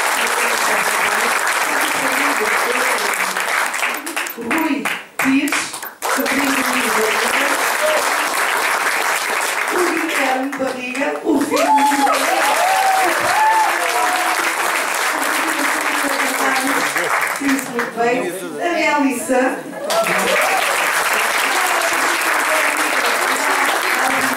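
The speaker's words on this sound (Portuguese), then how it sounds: "Carla se levante, sobrinha do Luís Barriga, uma grande salva de palmas" Audience applause at a book presentation for 'Sombra e Sol' fills the room: steady, dense clapping that dips briefly a few times, with some voices heard through it.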